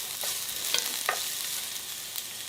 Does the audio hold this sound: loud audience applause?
no